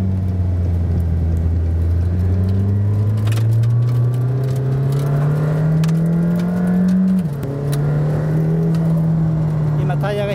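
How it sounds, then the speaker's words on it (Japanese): A McLaren Senna's 4-litre twin-turbo V8 accelerates hard on the Estoril circuit, a loud in-cabin engine drone rising steadily in pitch, dipping at a gear change, then climbing again under occasional talk. "4リッター V8 ツインターボ、800馬力800ニュートン。"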